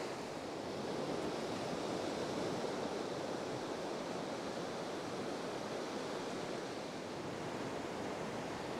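Ocean waves breaking and washing on the shore at Portrush, a steady, loud broadband roar of surf close by, continuous with gentle swells in intensity and no voices.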